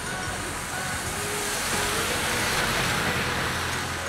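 A large bus rumbling past amid busy Oxford Street traffic in London, a loud, continuous engine and road roar that swells slightly toward the end, with no clear speech.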